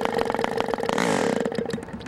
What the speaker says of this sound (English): You know, it doesn't catch right away.